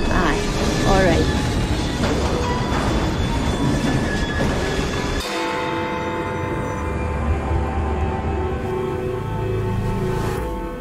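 Rumbling train in Assassin's Creed Syndicate, set in Victorian London, with rolling wheel noise and faint metallic squeal, loud at first then easing to a steadier, quieter run while voices speak over it.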